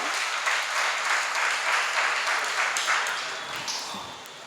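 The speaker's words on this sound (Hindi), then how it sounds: "ताली बहुत अच्छे से बजाते हो।" An audience at a religious discourse claps steadily and fairly loudly for several seconds before the applause gradually thins out.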